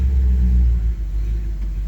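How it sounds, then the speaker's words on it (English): A 1962 Chevy Impala 2-door Sports Coupe with electronic ignition eases slowly out of a garage, its engine giving a steady, close, low rumble that dips slightly partway through. "I'm going to ease this car out of here in just a second"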